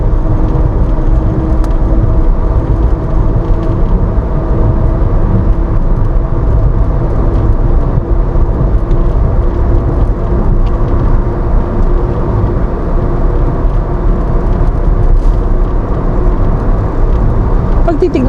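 A VinFast VF3 small electric car on Sumax tires cruises a skyway, giving a steady, loud broadband rumble of road and tire noise inside the cabin throughout.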